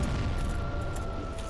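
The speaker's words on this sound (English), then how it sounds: "It's explosion time." Explosion during a Dark Souls boss fight, a dense, sustained rumbling blast with heavy low-end roar and crackling texture, loud and continuous throughout with no talk over it.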